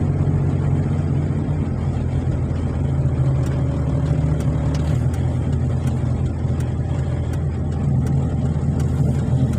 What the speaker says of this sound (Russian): одни литовские машины едут, я смотрю